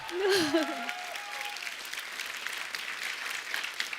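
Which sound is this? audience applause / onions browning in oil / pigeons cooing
audience applause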